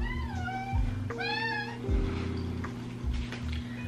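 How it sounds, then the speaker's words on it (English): A house cat meows loudly for food, several drawn-out rising and falling cries close by, separated by short pauses, with faint household noise beneath. "my cat comes in my room screaming for food"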